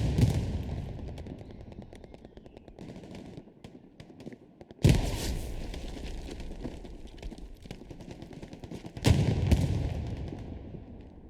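Gunfire rattles through a firefight in the video game Hell Let Loose: dense bursts of machine-gun fire under a steady battle din, with two loud sharp blasts standing out partway through.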